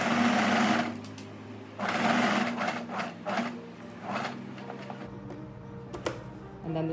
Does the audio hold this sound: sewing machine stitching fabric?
yes